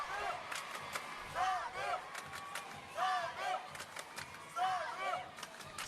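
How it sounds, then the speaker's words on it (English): A crowd at a gymnastics World Challenge Cup in Paris chants rhythmically for a French gymnast. Swelling, repeated vocal cheers rise and fall over a busy arena hubbub. "Samir chants the crowd."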